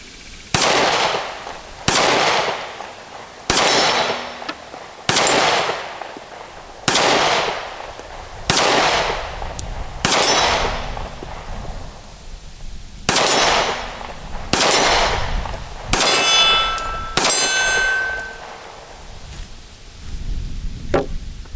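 A Taurus GX4 pistol fires about a dozen sharp, loud shots at an outdoor range with steel targets, spaced roughly every one to two seconds, some followed by faint metallic pings from hits, with no talking.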